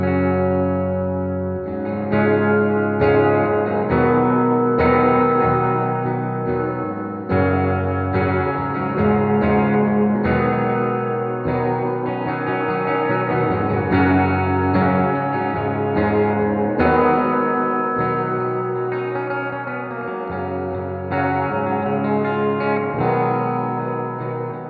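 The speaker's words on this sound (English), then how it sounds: "That's pretty good reverb." Electric guitar played through an amp's built-in reverb meant to emulate a spring, with lingering washy tails and a slight distorted edge, sustained chords ringing out loudly and continuously with no voices.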